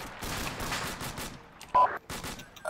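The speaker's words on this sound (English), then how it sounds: "Marine and Delta are taking massive fire in this direction." Gunfire in the Arma II military video game with the A.C.E. mod, a dense burst of overlapping shots and impacts followed by a few sharper, louder reports, heard alone without talk.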